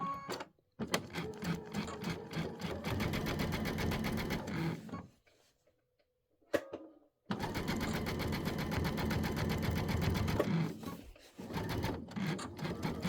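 A sewing machine stitches in the ditch on a quilt, its rapid steady needle rattle running loud and close, stopping once for a brief pause before resuming at the same fast even pace, with no voices.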